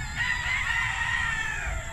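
A rooster crowing on a farm with other chickens, one long drawn-out call rising and holding, fairly close, over a low rumble of background noise.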